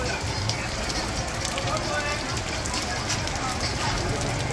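Rain falls at a night market in Nha Trang, Vietnam, a steady hiss of drops on surfaces that fills the whole stretch at an even level, with people talking over it.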